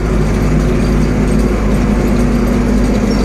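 A tractor engine drones loud and steady from inside the cab during a wheat field visit, a constant close low rumble with no pauses and no talk over it.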